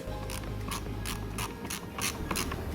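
A ratcheting driver turns a Torx 10 screw out of a 2013 BMW 1 Series side repeater, giving rapid, close clicking bursts in a steady run with no voices.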